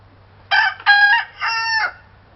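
A rooster crows close and loud, one full cock-a-doodle-doo in three clear bursts, alone with no talk.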